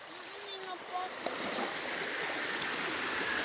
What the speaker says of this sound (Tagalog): Pinakita ko lang sa inyo yung ilog namin dito sa amin ha.